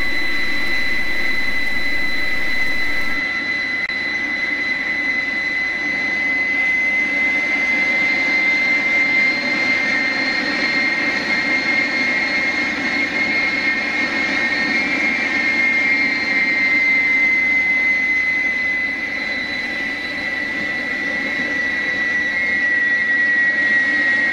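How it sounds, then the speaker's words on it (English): Right engine of a Fouga 170 jet trainer starting up, a loud steady turbine roar with a piercing high whine that builds and holds throughout, heard up close with no talking. "we hit the start switch for the right engine"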